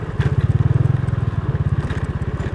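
A motorcycle bumps along a rough road toward a waterfall. Its engine chugs in a rapid, pulsing rhythm up close, with rattles from the uneven surface and no speech.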